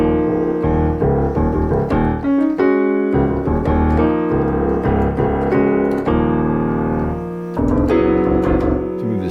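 A keyboard plays a melody line over sustained chords, notes moving stepwise at a moderate pace, loud and close with no talking.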